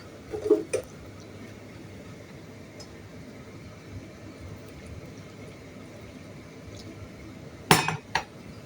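A spoon mixing pazhampori batter with sugar in a bowl gives a few close metallic clinks near the start and again near the end, separated by a long stretch of quiet soft scraping.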